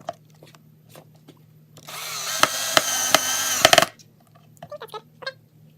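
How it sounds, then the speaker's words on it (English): A power drill drives a screw into a wooden plank for a bat box, one sustained whirring run of about two seconds with sharp clicks, set between quieter handling knocks. "So right now I'm going to drill in this hole"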